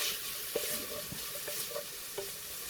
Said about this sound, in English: Sizzling like a treat.